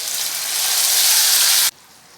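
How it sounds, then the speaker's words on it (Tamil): Green mint paste dropped into hot oil with fried cashews, a loud burst of frying sizzle that swells and then cuts off abruptly, leaving only faint residual crackle. "இந்த அளவுக்கு நல்லா செவந்து வந்த பிறகு ரெடியாக வச்சுருக்க புதினா பேஸ்ட்டை இதோட சேர்த்துட்றேன்"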